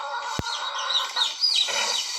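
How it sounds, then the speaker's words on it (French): A mother hen clucks softly while feeding her chicks, with several short clucks and chirps close by over steady farmyard background noise and one sharp knock. "Regardez comment cette poule est en train de nourrir ses bébés, ses poussins."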